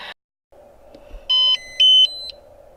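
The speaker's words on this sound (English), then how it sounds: "it's got a little beep that it's doing" A car adapter gives a few short, high beeps in quick succession during a firmware update, over a faint steady hum.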